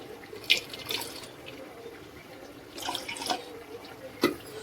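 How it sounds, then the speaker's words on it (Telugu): Water from a tap splashes and trickles into jowar (sorghum) flour for a chicken curry thickener, in a few short bursts with quiet gaps between, close by and fairly soft, with no talking. "తర్వాతనేమో వాటర్ కొంచెం కలుపుకోవాలి."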